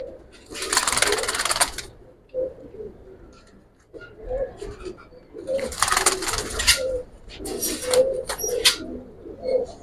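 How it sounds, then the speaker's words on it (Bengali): Close-up cooing from Giribaz pigeons, male birds of an old breed, in low rolling phrases broken by two loud bursts of rustling, flapping noise. "একবারে পুরান জাতের ভিতরে একটা কবুতর"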